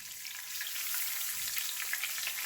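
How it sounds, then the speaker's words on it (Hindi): Steady, close sizzling of garlic and ginger frying in hot oil in a non-stick pan over low heat, a continuous crackling hiss with no voices. "इसको सौते करते हैं"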